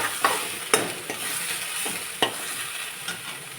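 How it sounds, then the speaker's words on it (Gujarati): Ridge gourd and tomato curry is stirred in a pan, with a steady frying hiss and a few sharp ladle knocks and scrapes against the metal at uneven intervals, close and clear, and nobody speaks. "આવી રીતે આપણે મિક્સ કરી લઈશું"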